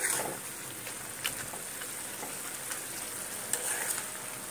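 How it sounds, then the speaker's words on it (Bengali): Lentil dumplings (bori) sizzle steadily in a vegetable curry made with tender stems, with a continuous close frying hiss, a few light stirring clicks and no voices. "এইবারে এই যে বড়িগুলো আছে এগুলো আমি তরকারির মধ্যে দিয়ে দিলাম,"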